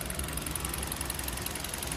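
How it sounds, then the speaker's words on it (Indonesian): A Hyundai Grand Avega car engine idles steadily, a smooth continuous hum heard close up with no talking. "Ini mesinnya halus banget loh. Ini mesinnya nyala nih."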